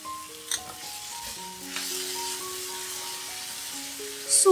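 Vegetarian shredded meat is stir-fried in a hot pan with salt, pepper, soy sauce and vegetarian oyster sauce, giving a steady low sizzle with light stirring scrapes and a brief clatter near the end, no voices.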